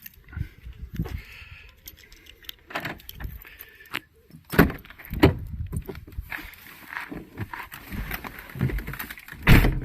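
A car door opening as someone climbs into the vehicle: scattered clunks, rustles and thumps of movement, with sharper knocks and a louder door-like impact toward the end, fairly close.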